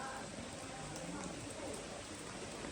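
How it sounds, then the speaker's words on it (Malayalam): Heavy rain pours steadily outdoors on an Onam morning, making a dense, continuous hiss that fills the whole short stretch at even loudness. "ഇതാ കണ്ടോ, ഫുള്ള് മഴ."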